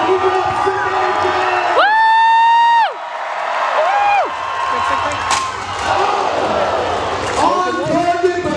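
Crowd at a Renaissance festival jousting match erupts in loud, sustained cheering and whoops, with an announcer's voice ringing over the noise and a rising, wavering call standing out midway.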